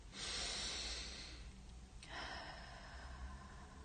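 Slow, steady breathing during a children's yoga relaxation, one long breath followed by another, soft and close with no talking.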